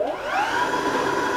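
An Alva Cervo electric motorcycle motor revs with a smooth, rising whine that climbs in pitch and holds steady, loud and close.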